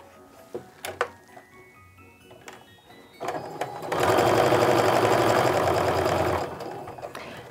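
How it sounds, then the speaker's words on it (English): A sewing machine stitches a quarter-inch seam on fabric. A few light clicks and taps come first, then a steady, close whirring run of stitching lasts about two seconds and stops. "We're going to sew a quarter inch seam on both sides of my piece."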